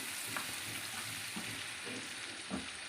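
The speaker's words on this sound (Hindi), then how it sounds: "अब इसको भी हम फ्राई कर देंगे।" Leftover masala fries in a pan for achari mung and masoor dal, giving a steady close sizzle with a few soft stirring scrapes and no talking.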